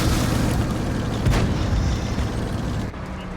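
Tank cannon fire in a tank video game, loud booming shots with a sharp burst near the middle over continuous rumbling battle noise.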